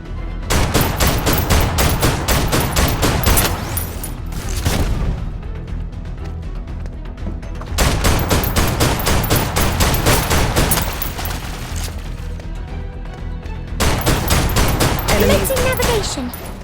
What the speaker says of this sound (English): Shoot at the ammo boxes to force him out of there.